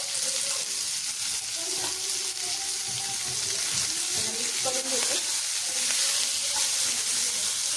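Tomato, chili and onion sautéing in a pan for bharit, a continuous bright sizzle with spatula scrapes and a faint murmur of voices underneath.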